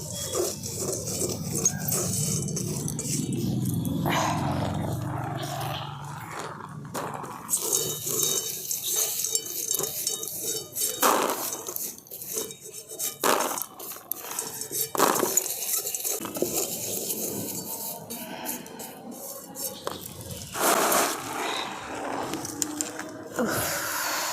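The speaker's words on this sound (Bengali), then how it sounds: "ছোলাটা দিয়ে কিন্তু এরকম নাড়তে হবে, কনস্ট্যান্ট নেড়ে যেতে হবে" Chickpeas being stirred and dry-roasted in a pan for homemade chatu, a steady scraping and rattling with scattered clinks of a utensil against metal, fairly close and continuous.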